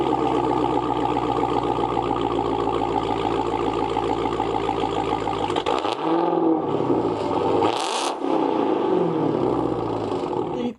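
A 2018 Dodge Charger Hellcat with a muffler delete accelerates hard, a loud, raspy, roaring exhaust close by that climbs in pitch, breaks off briefly between gear shifts, and surges again.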